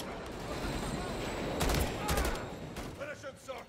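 Bursts of rapid gunfire from a firefight in Call of Duty: Modern Warfare 3 (2023), a couple of loud volleys in the middle over a noisy battle bed, with faint clipped voices afterward.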